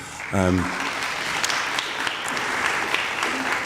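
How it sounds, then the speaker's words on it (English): Audience at the unveiling of a commemorative plaque in a church building clapping, a steady crowd of hands at moderate level, with a brief voice near the start and faint talk beneath. "that clap goes out to English heritage"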